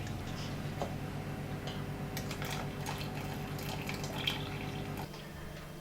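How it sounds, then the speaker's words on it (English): Liquid strained off a nettle and wild garlic soup drips and trickles steadily beneath a constant low hum, with a few light clinks scattered throughout. "So at that point you just need to strain off the liquid."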